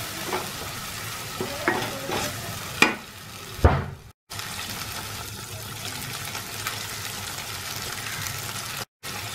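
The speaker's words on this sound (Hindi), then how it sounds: "थोड़ी देर तक अच्छे से फ्राई करेंगे मसाले को।" Spice masala fries in a pan with a continuous hissing sizzle, punctuated early by a few scraping stirs and clanks, then settling into steady frying noise with brief dropouts.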